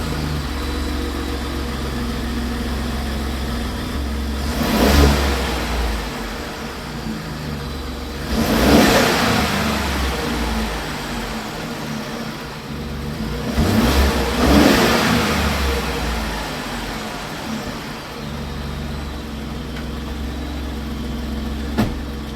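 A 2021-or-newer Ford F-150 pickup engine revs three times from idle after an air filter change, each surge rising and falling over a steady running hum, with no talking.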